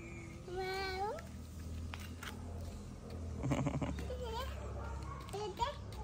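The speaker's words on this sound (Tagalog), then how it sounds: "It's a cat." A cat meows a few times at home, rising cries standing out among children's chatter and an adult voice talking nearby.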